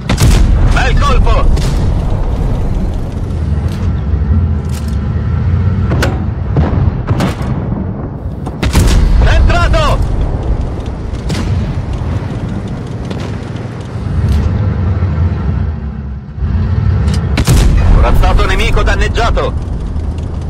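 Heavy tank cannon blasts boom repeatedly in a World of Tanks Blitz battle, loud and close, mixed with engine rumble and in-game voice callouts.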